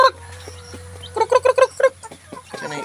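Young chicks being raised from their first day to about a month old, healthy and peeping in a short cluster of high, bright calls midway through, over a low steady hum with otherwise quiet surroundings.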